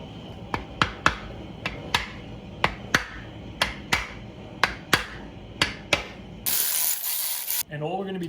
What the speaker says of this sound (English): all we're gonna be doing is torquing all of these to spec